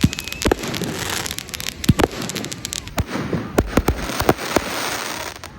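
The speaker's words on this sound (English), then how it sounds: "We're already starting to light up fireworks." Fireworks go off on New Year's Eve in Phuket: sharp bangs and crackles at irregular intervals, some close and loud, others farther off, over a hissing background.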